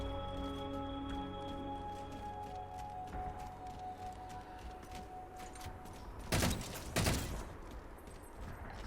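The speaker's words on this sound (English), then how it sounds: "Shooting at me." Gunfire crackles in Halo 4 as bursts of rapid shots pop through a battlefield hum, growing louder with two sharp heavy blasts near the end.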